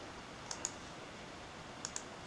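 A computer mouse clicks twice, then twice more, in CAD drafting software: sharp, faint, close clicks in quick pairs over a quiet room hiss.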